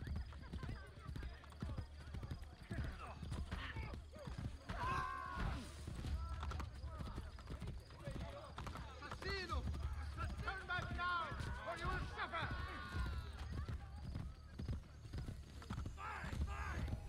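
Hooves gallop in a steady clip-clop rhythm as a horse runs in Assassin's Creed Brotherhood, with an occasional whinny and a voice talking over much of it.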